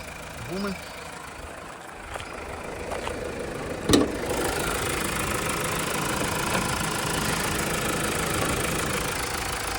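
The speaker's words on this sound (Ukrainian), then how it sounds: "Двигунчик працює як швейцарський годинник." A 2015 Mazda CX-5 2.2 Skyactiv-D diesel engine idles under the hood with a steady rough rumble and faint knocking, up close and continuous, with a brief clank partway through.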